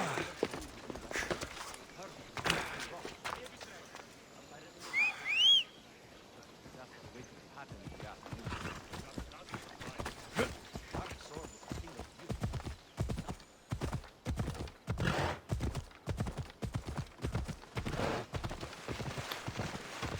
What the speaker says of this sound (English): Come on, horsey, run faster.